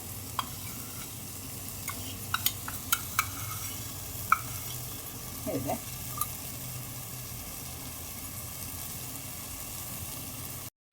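Ginger garlic paste for an egg roast is stirred in a pan, giving a low, faint sizzle with a few sharp clicks and spatula scrapes, no talking.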